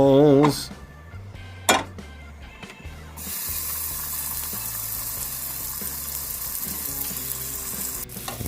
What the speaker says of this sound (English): We're gonna sear this bad boy over super high heat and get a crust and finish it in the oven.